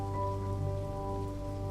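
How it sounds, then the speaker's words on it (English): Heavy storm rain pours steadily with a dense, unbroken patter, accompanied by a low sustained tonal hum throughout. "The rains poured hard and loosened the ground."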